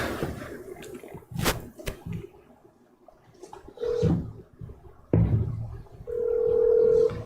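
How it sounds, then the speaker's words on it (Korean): A telephone dial tone sounds while a call is placed, steady mid-pitched tones coming in short bursts, with clicks and small handling noises in between. "전화를 한번 제가 걸어보겠습니다"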